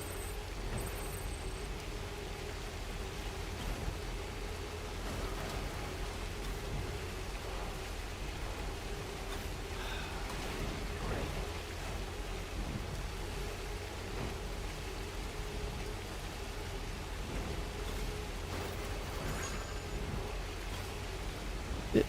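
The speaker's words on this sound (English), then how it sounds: "It is stormy out here." Steady rain from a thunderstorm in the video game Death Stranding: a constant soft hiss of falling rain runs through the whole stretch, fairly quiet and even, with no clear thunderclap standing out.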